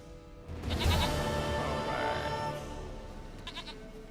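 Goat bleats in The Witcher 3, a wavering animal call carried over steady game ambience and music, fairly loud and close, with a couple of shorter bleat-like bursts near the end.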